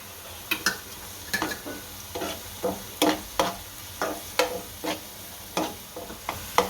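Ginger and garlic sautéing in a pan for sev usal while a spoon stirs them in regular scraping strokes over a steady low sizzle, close and clear, with no speech.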